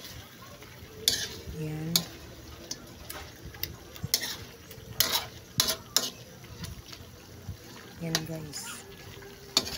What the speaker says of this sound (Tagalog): Yan guys, halu-haluin natin